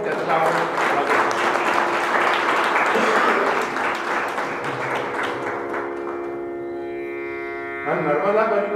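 An audience at a kirtan gathering for Janardan Swami Jayanti claps in a dense burst of applause that gradually thins over about six seconds, giving way to sustained musical tones and then a speaking voice.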